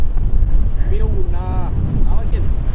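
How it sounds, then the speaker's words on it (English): Steady wind rumbles and buffets a microphone outdoors on a Scottish mountain summit in Glen Lyon, continuous and fairly loud, with a voice speaking briefly in the middle. "So as you can hear, it's windy"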